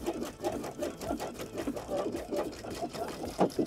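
A sewing machine backstitches along the sleeve of a denim jacket, running in a steady, fast stitching rhythm with short pauses, close and fairly quiet.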